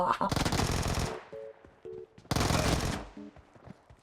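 Rapid automatic gunfire rings out in the PUBG Mobile battle royale game, two dense bursts of loud, close shots with short gaps and faint game tones between them.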